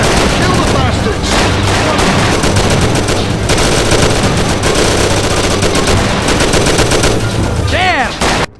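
Dense, continuous gunfire fills a Mafia 2 shootout, rapid automatic bursts and single shots overlapping nonstop at high volume, with shouting voices mixed underneath and a brief whoosh near the end.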